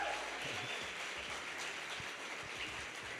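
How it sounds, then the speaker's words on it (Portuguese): A church congregation claps together in a continuous, moderately distant patter of many hands, with faint murmuring voices underneath. "Vamos aplaudir a Jesus pela vida do nosso pastor Natan."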